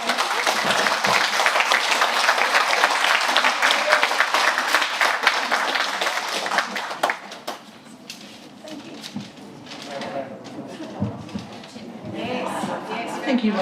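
Audience applause at a book launch in a bookshop, sustained and full for about seven seconds, then thinning out and fading into scattered claps and murmuring chatter.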